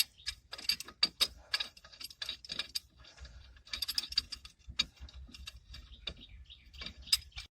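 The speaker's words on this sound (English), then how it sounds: "The C-clamp. After pushing that piston in." A C-clamp presses the brake caliper piston back into its bore on a 1999 truck, making a close run of sharp metallic clicks, ticks and light rattling in an uneven rhythm, with no voices.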